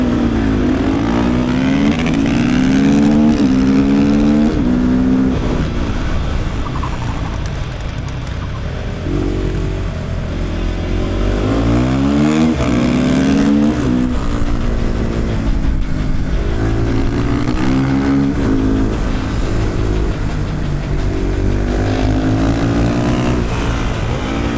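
Supermoto motorcycle engine racing around a track day circuit during a one-lap sprint, loud and continuous with repeated revving, rising and falling pitch through gear changes, and no talk.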